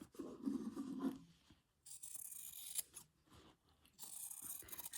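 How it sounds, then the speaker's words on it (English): Scissors cutting through quilt fabric, with quiet snipping and scraping strokes up close, in two bursts separated by pauses and handling noise. "So I'm going to cut it out."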